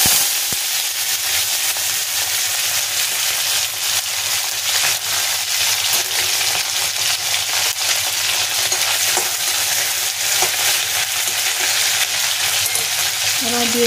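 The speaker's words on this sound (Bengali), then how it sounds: "তেল গরম হয়ে গেছে, এবার শিডলটা দিয়ে দেব।" Dried shidol fish fries in hot oil with a loud, dense, continuous crackling sizzle close up, steady and unbroken throughout, with no voices.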